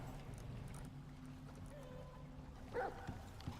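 A dog in the open-world survival game Icarus barks a few times, short faint yips rising over a low steady background rumble, distant and brief.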